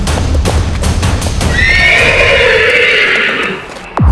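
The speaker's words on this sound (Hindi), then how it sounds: "अरे कोई ढंग से बांधो इस बिन मालिक के बिगड़ेल घोड़े को।" Horse neighing: a loud, long whinny rising and wavering over a couple of seconds, close by, after faint clip-clop beats and background noise.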